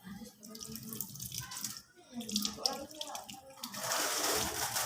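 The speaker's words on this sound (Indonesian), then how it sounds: "bilas dengan air yang mengalir" A tap runs steadily while hands are rinsed under the flow, the splashing shifting as the hands move and then swelling into a fuller rush near the end; close by, with some voice underneath.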